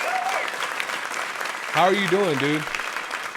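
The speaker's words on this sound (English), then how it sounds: "let's give a huge round of applause to my homeboy" Podcast studio audience applauding a guest, a steady clatter of claps running throughout, with a voice greeting over it partway through.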